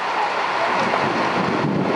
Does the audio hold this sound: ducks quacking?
no